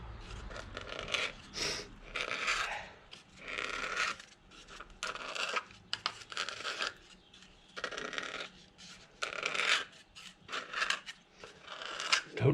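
Scissors snipping material into circular rings for Jaguar MKII interior rear lights, a quick irregular series of close crisp cuts and rustles.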